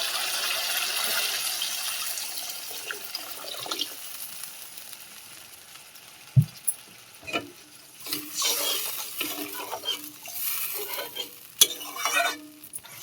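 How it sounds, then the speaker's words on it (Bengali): Water poured into sautéed spice masala for a fish curry: loud sizzling hiss at first, then sharp clatters and stirring sounds as the pan bubbles, close by with no talk. "এবার আমি জল দিয়ে দিই।"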